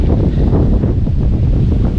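Strong storm wind buffets a microphone during a kayak fishing outing, a loud, continuous low rumbling roar with gusty surges and no talk.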